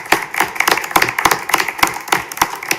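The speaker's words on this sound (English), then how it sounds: "offer a round of applause for your" Meeting attendees at a city planning and design commission clap in thanks, a small group whose sharp, distinct claps sound close and fairly loud in a quick, uneven rhythm that continues throughout.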